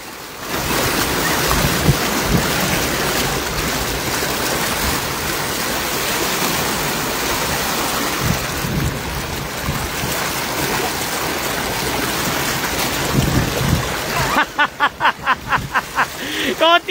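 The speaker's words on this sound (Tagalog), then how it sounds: "Lumalakas yung tubig." Strong river current rushing during big-net fishing, a loud, continuous roar of water with buffeting wind on the microphone throughout and a quick rhythmic clatter near the end.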